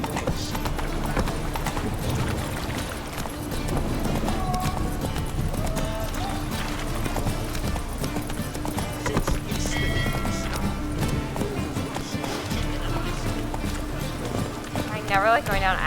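Hooves of Roach, a horse galloping in The Witcher 3 game, clip-clop steadily and continuously beneath a dense game soundtrack, with someone talking over it and occasional other effects.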